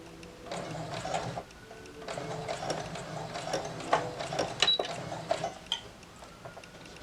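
A sewing machine back-tacks the seam of a cloth face mask, giving short bursts of rapid mechanical stitching with brief pauses between them, close up and moderately quiet.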